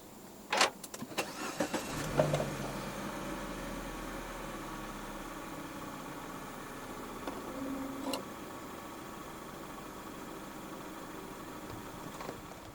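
A 2013 Peugeot 508 1.6 Premium fires up by push-button start, with a brief low crank and catch about two seconds in before settling into a quiet, steady idle heard from inside the car.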